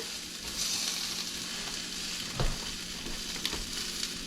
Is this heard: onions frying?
yes